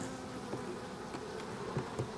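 Honey bees buzz steadily inside a hive, a low continuous hum at close range with a few louder passes by individual bees, no voices.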